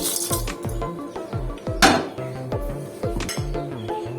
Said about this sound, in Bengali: আমি এই শুকনো মশলাগুলো মিক্সিতে দিয়ে দিচ্ছি, গুঁড়ো করে নেব।